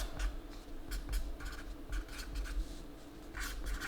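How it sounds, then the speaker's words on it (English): A pen writing by hand on a label or sleeve for a card submission, heard as steady close scratchy strokes in short bursts with brief pauses between words. "And so here we'll write front."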